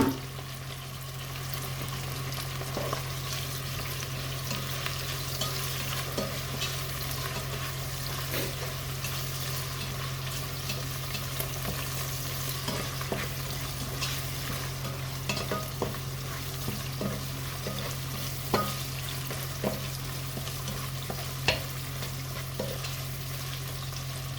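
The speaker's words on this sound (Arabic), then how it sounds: "شوية حمص البصل واللحم، راح أضيف البطاطس أحمسهم سوية" Onion and meat frying in a pot while being stirred for an Iraqi potato stew, with a steady sizzle throughout, a low constant hum underneath, and frequent scraping clicks from the stirring spoon.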